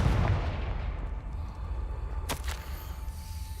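A Confringo fire spell explodes in the Hogwarts Legacy video game, a sharp blast that cuts through a steady low rumble of game sound, with a brief crackling burst near the end.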